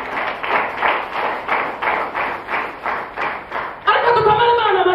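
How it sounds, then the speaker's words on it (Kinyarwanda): Church congregation clapping together in a steady rhythmic beat, about a dozen loud even claps, then voices rise over the end. "Komera Imana amashyi menshi"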